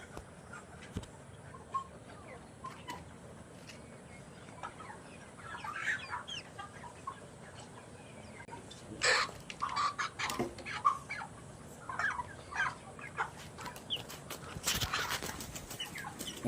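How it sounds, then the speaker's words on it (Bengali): Broiler chickens about 35 days old cluck sporadically on a poultry farm, scattered soft calls and clucks over a low steady background, with occasional sharper bursts. "দুইটা মুরগি নিয়ে আসি"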